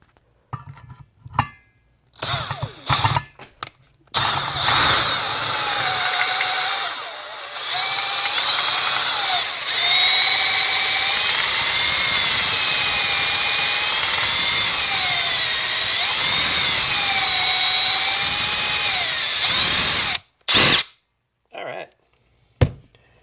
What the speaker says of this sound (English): I think I'm going to have to go ahead and use my Makita on there just to fine-tune the hole